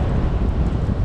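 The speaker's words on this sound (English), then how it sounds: "Wow, it's pretty windy." Loud, rumbling wind buffets a helmet microphone continuously on a morning motorcycle commute, visor removed, a dense low roar with no voices.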